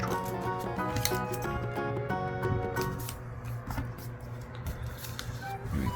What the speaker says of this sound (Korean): 그 중에 삼각형을 위로 이번에 접어주세요.